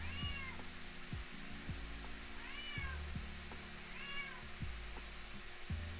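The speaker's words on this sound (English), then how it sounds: "Sorry if you hear my cat in the background." A pet cat meows three times at a slow, even pace, distant and soft against a steady low indoor hum and some faint knocks, with no talking.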